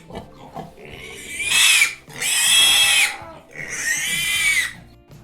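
A pig squeals in three loud, shrill, drawn-out bursts, each lasting about a second, close and harsh, with faint grunting and rustling in between.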